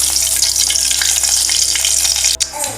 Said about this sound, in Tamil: இப்போ நாம் காஞ்ச மிளகாயை போட்டுடலாம்.